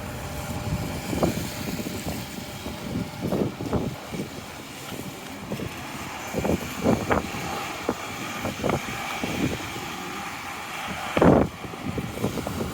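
Gusty wind buffeting the microphone during a walk in July rain on Robie and North End, coming in irregular rough surges and roars with a sharp blast near the end, no talking.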